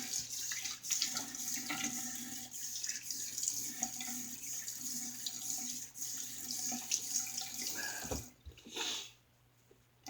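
A running tap rinses a vintage DeHaven safety razor, water splashing steadily and close for about eight seconds before the flow is cut off, leaving a faint hiss.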